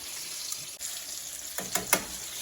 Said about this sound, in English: I'm going to finish frying these up